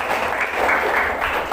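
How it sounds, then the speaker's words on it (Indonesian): A classroom group claps together for a student during a geography lesson, a steady burst of dense applause that holds loud and even throughout without talking. "Ayo kita itu beri tepuk tangan dulu."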